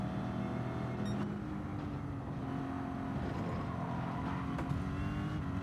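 Jaguar D-Type race car in Gran Turismo 7 at Le Mans: a steady, droning engine note held at high revs throughout, with a brief gear change, fairly quiet and even with no talking.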